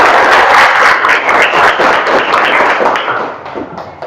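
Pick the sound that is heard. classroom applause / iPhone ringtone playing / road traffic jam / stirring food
classroom applause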